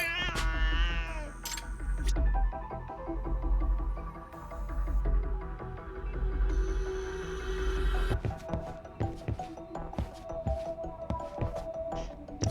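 A cat meows in the video game Lost Judgment, with repeated close mewing calls over a droning game soundtrack, followed by clicking taps and music.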